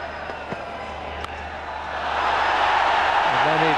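Stadium crowd at a 1996 World Cup cricket quarter-final between Australia and New Zealand, a broad roar of cheering and applause swelling from a low murmur and holding loud and steady to the end.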